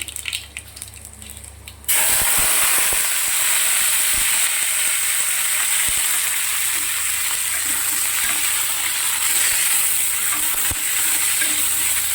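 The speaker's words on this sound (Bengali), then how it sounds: "সামান্য একটু কালো জিরে ফোড়নে দিলাম।" Nigella seeds hit hot white oil, and a loud, steady sizzle starts abruptly after a quiet opening, continuing close and unbroken through the rest of the clip, with no talking.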